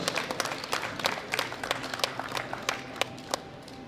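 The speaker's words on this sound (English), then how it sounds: "Give them the round of applause to the best 3 powerlifters of the deadlift juniors" Audience applause at a junior powerlifting world championship medal ceremony for the deadlift podium, scattered distinct claps over a steady crowd wash, moderately distant in a large hall.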